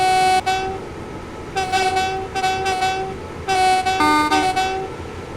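A Class 350 LNWR electric train on the West Coast Main Line between London Euston and Tring, heard from inside, with several loud, sustained two-tone horn blasts in separate bursts over a low, steady running rumble.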